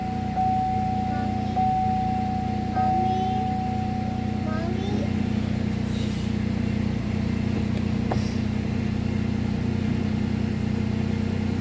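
A 2005 Nissan Xterra engine idling steadily after a coolant reservoir replacement, a low continuous hum with faint ticks over it, fairly close, with no distinct start-up crank.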